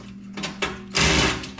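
An old power drill set to low power whirs in short bursts, stopping and starting before a louder, longer run near the end, close up with no talking.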